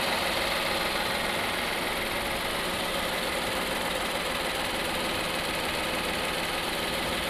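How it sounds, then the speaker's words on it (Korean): A Kia The New K9 second-generation 3.8 GDI AWD sedan engine idles steadily with its engine bay open, a continuous, even hum with no voices over it. "엔진 소리 일정합니다"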